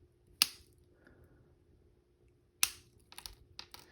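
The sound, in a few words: cutters trimming wire ends of a wire-wrapped pendant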